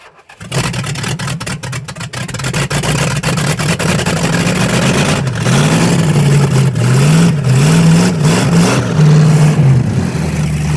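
A big-block V8 swapped into a junkyard Suzuki Samurai cranks, catches and runs loudly nearby, settling into a lumpy rumble with several rising and falling revs.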